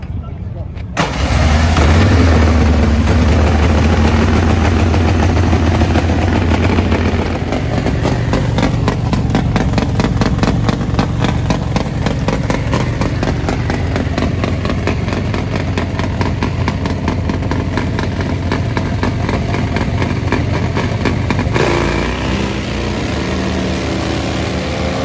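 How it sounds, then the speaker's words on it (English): Nitro-burning funny bike drag racing motorcycles at a drag strip, a loud sustained engine roar that fires up abruptly and holds a rough, pulsing drone, with a commentator talking over it. "And now we step it up to Nitro Funny Bike."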